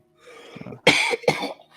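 A person struggling for breath while choking beside a carriage, then two harsh, loud coughs in quick succession, close by.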